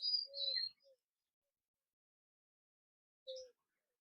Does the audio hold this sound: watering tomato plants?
no